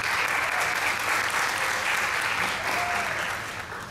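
An audience applauds middle school administrators at a 2014 holiday jazz concert, with dense, steady clapping from a crowd that fades slightly toward the end.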